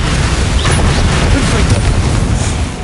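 Confringo and Bombarda blasting spells in Hogwarts Legacy erupt as a dense, loud, continuous roar of explosions and crashing debris filling the whole moment without a break.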